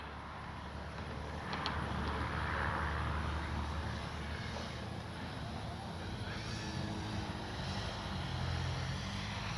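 An RC model airplane with a new motor flies in to land, its engine a steady droning whine with a thin high tone, holding at a fairly constant level from start to finish.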